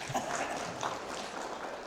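Scattered audience applause during a Won Buddhist dharma service, a steady soft patter of hands clapping at moderate distance for a couple of seconds, with light room noise underneath.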